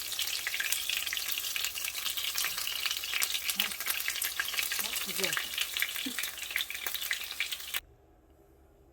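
Steady, loud sizzling of cheese-filled phyllo rolls frying in hot oil fills most of the clip, with a brief spoken remark in the middle, before the sound cuts off near the end.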